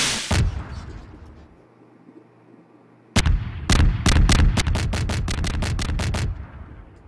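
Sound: fireworks exploding in video game Garry's Mod

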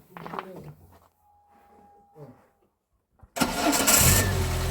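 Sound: Renault Twingo 1996 engine starting

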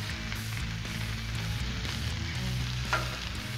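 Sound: egg frying on a Blackstone griddle

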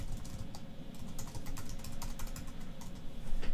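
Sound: typing on a computer keyboard

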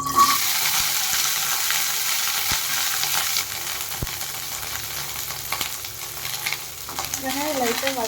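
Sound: small onions frying in hot oil

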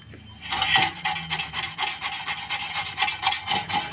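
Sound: grating palm fruit pulp with a hand grater

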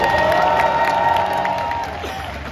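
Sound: audience applause and cheering at a retirement ceremony

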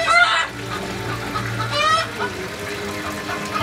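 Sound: hens clucking as a peasant woman feeds them

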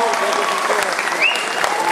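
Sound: audience applause

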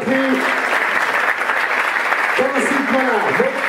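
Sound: spectators applauding at athletics meeting

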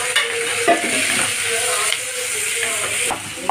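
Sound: sautéing tomatoes in pan for mint chutney

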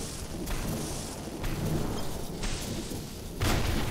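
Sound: lightning strike on metal rod in video game People Playground

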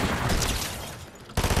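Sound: SMG gunfire in a video game

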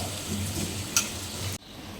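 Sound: tomatoes and onions frying in a pan

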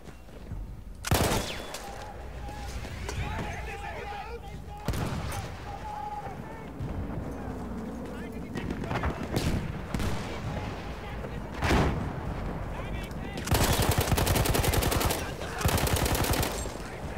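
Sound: gunfire from a gun in video game Battlefield 1

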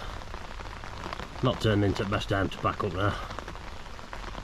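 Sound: rain falling on a fishing bivvy

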